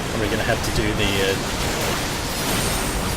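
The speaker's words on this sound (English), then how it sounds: "There's a big ass waterfall right behind me." A waterfall in the video game Final Fantasy XIV gives a steady, broad rushing roar, loud and constant, with a voice talking over it.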